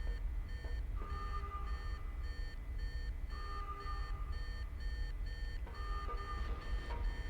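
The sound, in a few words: explosive timer beeping in Blade video game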